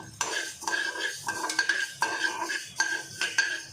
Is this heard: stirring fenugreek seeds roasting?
yes